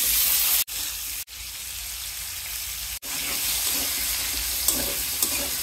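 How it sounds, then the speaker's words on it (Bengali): Potatoes frying in oil in a pan while preparing a fish-head murighonto, a steady broadband sizzle close by that is broken by a few short gaps, with no talking. "এখন আলু ভেজে নেব"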